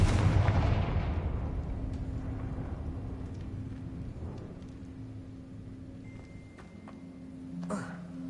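An explosive Confringo spell goes off in Hogwarts Legacy on PS5: a loud, broad blast at the start that rolls into a long, fading rumble, with a soft resonant burst near the end.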